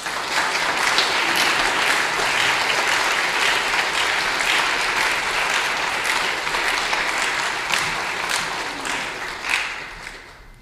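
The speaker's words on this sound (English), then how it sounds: "receive now the Reverend Dr. Will Gafney with a warm applause." Warm audience applause greets a reverend lecturer at a lecture series, a dense steady wave of many hands clapping that fills the room and tapers slightly near the end.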